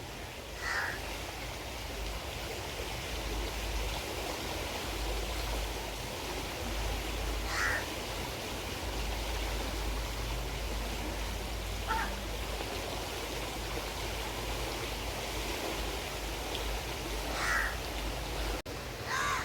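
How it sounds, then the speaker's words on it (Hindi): A crow caws four times at spaced intervals, somewhat distant, over a constant rushing background noise beside the Ganges at Haridwar. "एक टहनी पर कौवा बैठा है, ये अपने साथियों को बुला रहा है"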